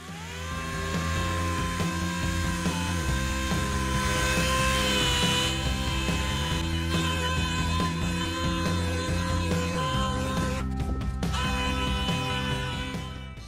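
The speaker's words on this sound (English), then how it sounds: "I'll start rough shaping everything with some 80 grit sandpaper" Steady power sanding of a foam mold for a Honda ATC 90 three-wheeler rear fender, a continuous whining buzz with shifting harmonic pitch that holds loud throughout and briefly cuts out near the end.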